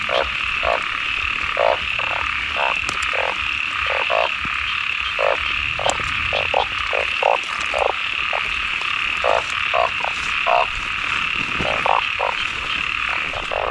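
Large frogs croak in rhythmic, evenly spaced pulses close by, a steady run of repeated calls over a constant high buzzing chorus in the background, with nobody speaking.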